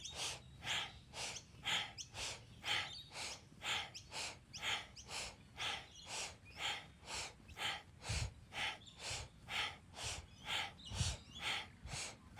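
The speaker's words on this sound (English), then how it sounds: "breathing deep" Deep rhythmic breathing during a Kundalini yoga spinal energy exercise, steady paced inhales and exhales repeating about every second with faint birdsong in the background.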